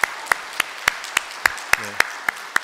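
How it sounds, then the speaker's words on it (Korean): Congregation in a church applauding, heard as sparse, evenly spaced claps ringing out at a moderate distance, with a brief low tonal sound partway through. "영광의 박수로 다시 한번 올려드리겠습니다"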